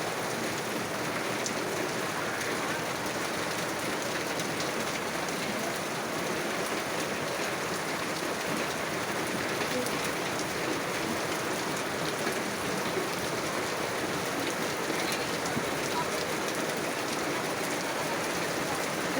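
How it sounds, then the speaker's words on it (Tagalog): A steady, strong rushing roar of wind fills the whole stretch without letup, broad and noisy like gusts buffeting close by. "Lakas ng hangin, no?"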